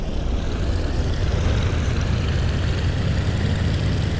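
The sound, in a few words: aircraft engine throttling up in video game IL-2 1946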